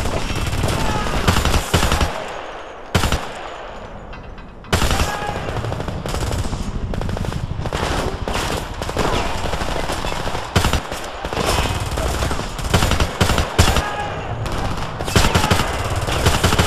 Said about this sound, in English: Machine gun, second floor window!